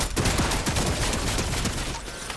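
Video game gunfire aimed at a turret: a loud, continuous burst of rapid shots crackling together without pause, up close and dense, with no voices.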